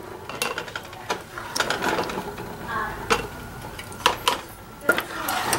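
A metal ring twisted onto a jar lid on a jar of freshly made hot peach butter, giving close, repeated ratcheting scrapes and clicks in a quick uneven rhythm.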